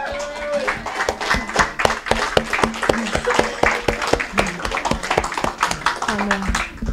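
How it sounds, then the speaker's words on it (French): Church congregation clapping at a Sunday service, a dense run of sharp hand claps with some rhythmic unison, steady and fairly loud throughout, with voices and singing tones mixed in. "Un immense applaudissement au Seigneur."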